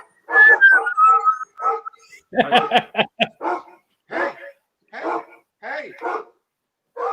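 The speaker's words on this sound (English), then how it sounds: "it wouldn't be one of my shows if a dog wasn't barking" A dog barks repeatedly nearby in short, sharp bursts with some whimpering yips, spaced irregularly, while a person speaks briefly.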